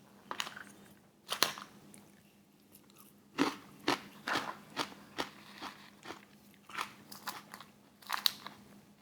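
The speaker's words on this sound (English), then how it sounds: "there's crunchy little pieces of chips, which actually make it pretty good." Close, crisp crunching and chewing of salad with crunchy little chip pieces from El Pollo Loco, a steady series of bites and munches without talk.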